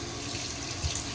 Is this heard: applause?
no